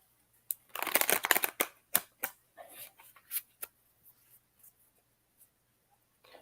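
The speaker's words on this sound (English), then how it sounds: "So let me shuffle this deck for you, Jill Clark." A deck of cards is riffled quickly, a rapid papery flutter, then several scattered taps and soft clicks as the cards settle; close and quiet.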